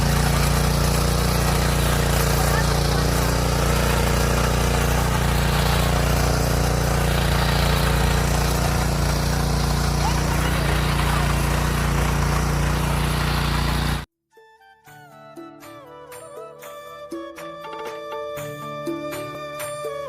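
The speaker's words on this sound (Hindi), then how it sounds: "अभी मोटू की बारी आ गई है ट्रैक्टर चलाने की।" Power tiller engine running in a farm field, a steady, loud, droning hum that holds constant for about fourteen seconds and then cuts off abruptly, giving way to a different, thinner tonal sound.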